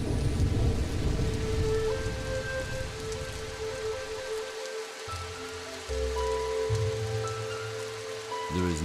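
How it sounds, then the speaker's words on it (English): Heavy rain pours steadily with rolling thunder at the start of the rainy season in a gorilla habitat, a loud continuous downpour with deep rumbles throughout and no voices. "The rainy season starts."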